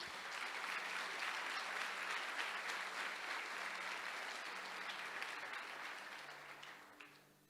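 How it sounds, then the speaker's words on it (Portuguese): A large church congregation applauds steadily during a sermon, a dense wash of clapping that holds strong and then gradually fades toward the end. "Você pode aplaudir a palavra de Deus?"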